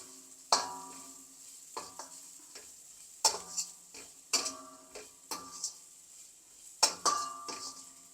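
Bitter gourd frying in a pan with a soft, quiet sizzle beneath repeated sharp scrapes and clinks of a spatula being stirred against the metal at irregular intervals.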